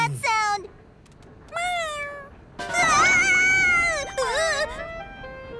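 A cartoon cat meows several times in drawn-out, rising and falling cries, with short pauses between calls and louder overlapping meows toward the end.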